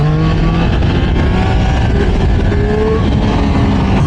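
Loud, close Yamaha MT-09 SP motorcycle engine accelerating hard, a continuous revving roar with rising tones and no talking.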